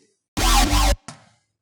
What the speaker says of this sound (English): this sound can be made from a Reese bass.